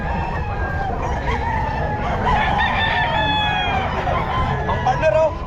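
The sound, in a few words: stag rooster crowing at a pet market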